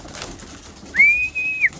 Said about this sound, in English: I've got birds everywhere